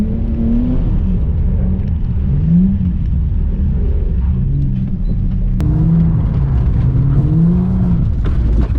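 A Ford Falcon's engine revs and rumbles loudly and continuously as the car slides, with rising and falling pitch through throttle changes and no talk.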